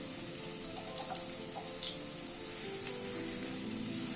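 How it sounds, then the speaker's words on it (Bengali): Lightly boiled potatoes frying in a pan, a steady close sizzle and crackle with faint clinks of stirring, continuous throughout with no talk. "আলুটাকে দিয়ে আগে একটু আলুটাকে হালকা করে ভেজে নেব।"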